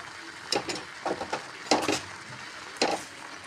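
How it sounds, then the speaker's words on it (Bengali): A cooking pot with water boiling beneath flatbreads made without oil, giving faint, intermittent bubbling and sizzling bursts that come close and quiet, alone without voices. "দেখো ভালো করে বুঝতে পারছো এখানে জলটা ফুটছে"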